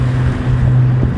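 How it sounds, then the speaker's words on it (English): Constant wind buffets the microphone with a dense low roar and a steady hum underneath, loud and close throughout. "windy"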